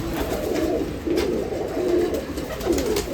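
Pigeons coo steadily at a pigeon festival in Nashik, a dense, overlapping murmur of low throaty calls from many birds close by, with no talking.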